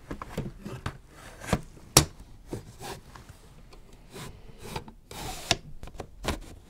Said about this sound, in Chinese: 试一下，试一下这夹子能不能塞进去